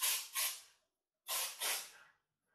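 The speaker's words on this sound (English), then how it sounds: "Just going to spray this on my face." Two quick pairs of mist spray bursts from a spray bottle aimed at a face, each a short airy hiss repeated twice, close up in an otherwise quiet room.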